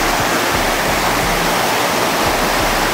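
A mountain stream rushing at a trail crossing near Mount Jefferson, a loud, steady broadband roar of fast water close by, unbroken throughout.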